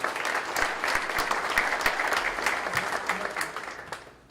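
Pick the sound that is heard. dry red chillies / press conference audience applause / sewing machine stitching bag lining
press conference audience applause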